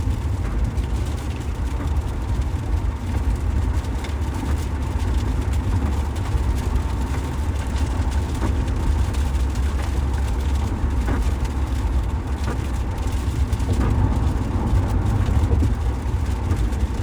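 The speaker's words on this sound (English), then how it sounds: "Hear that? That's the sound of the rain." Steady, dense rumbling wash of heavy rain drumming on a car, continuous and loud throughout with a low engine-like hum underneath, as the windshield wipers run.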